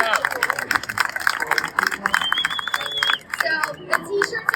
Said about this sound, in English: Round of applause for Maya.